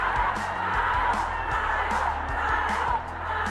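A big concert crowd at a show cheers and screams in a sustained, loud roar with scattered whoops. The noise eases slightly just before the end.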